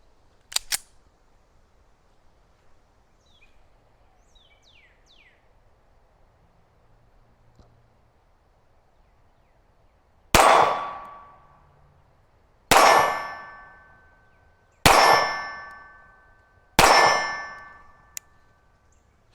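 Four loud metallic clangs from Girsan MC 1911 C pistol rounds striking a steel target, spaced about two seconds apart and ringing out after each hit, preceded by a faint distant shot early on.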